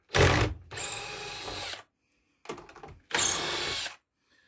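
Power screwdriver backing machine screws out of a Celestion Ditton 442 loudspeaker cabinet, two loud close bursts of whirring, each a split burst separated by a short pause.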